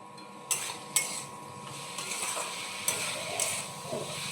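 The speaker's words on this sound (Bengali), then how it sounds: "এবার এটাকে আবার নাড়তে চাড়তে থাকবো হালকা আঁচে" A spoon stirs mixed fruit chutney in a pan over low heat, with repeated sharp scrapes and knocks against the metal at irregular intervals over a soft background hiss.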